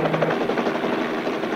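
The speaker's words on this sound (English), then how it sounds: "I'm flying a helicopter above your house right now." A helicopter flying overhead over a house, heard as a steady, dense rotor and engine roar with a rapid chopping flutter, loud and continuous throughout with no talk.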